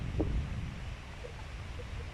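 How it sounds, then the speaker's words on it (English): Steady low rumble of wind buffeting the microphone, loudest at the start, with faint outdoor noise behind it. "it's very windy stood here"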